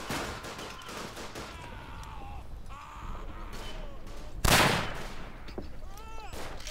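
Bursts of rifle and machine-gun fire crack across a Verdun trench battle, scattered shots, one sharp loud report midway, with someone talking over the shooting.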